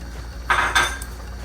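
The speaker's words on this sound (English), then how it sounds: "Stir the fish and crayfish mixture." Metal spoon scraping and clinking inside a pot while a fish and crayfish mixture thickened with achi is stirred for a Nigerian soup, two short close scrapes in an otherwise quiet kitchen.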